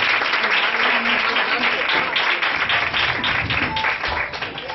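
Parents and classmates at a school quiz contest applaud student teams, a lively, dense round of clapping that carries on with a few voices mixed in, easing slightly near the end.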